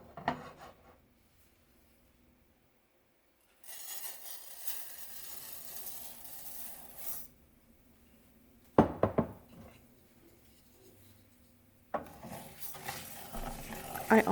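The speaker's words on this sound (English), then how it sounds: "I'm going to gradually toast my rice until it achieves a light golden brown color" Rice toasts in vegetable oil in a pan with bursts of close sizzling and scraping stirs, broken by quiet pauses and a few clattering knocks against the pan.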